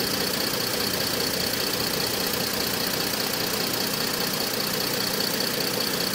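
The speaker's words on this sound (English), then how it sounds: "Must leave the engine idling and the transmission in park." A Mercedes W204 C-Class sits in park during a 7G-Tronic transmission fluid service while its engine idles. The hum is steady, even and close, with a faint mechanical vibration and no voices.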